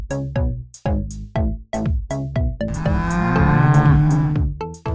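Toy 3D cow figure playing a recorded cow moo, loud and close, in a quick run of short repeated moo bursts followed by one longer sustained moo, with no talking.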